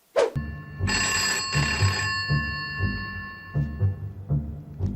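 An old-style telephone bell rings in rapid repeated trills, loud and close, with no voices over it.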